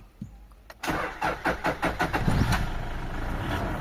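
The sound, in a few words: Toyota Innova 2004 automatic engine starting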